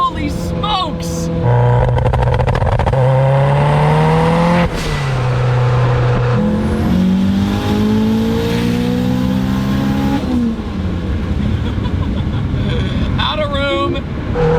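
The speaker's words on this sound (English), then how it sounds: "Dude, the anti-lag is so efficient." A 707 hp Toyota MR2 two-seater engine revs hard and accelerates loudly through several gears, its pitch climbing and dropping at each shift, with anti-lag pops and crackles near the end and excited voices over it.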